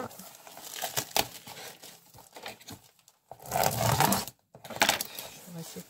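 A Craftease parcel box being opened, with close crinkling, tearing and scraping of cardboard and packing material in irregular bursts, a voice talking over parts of it.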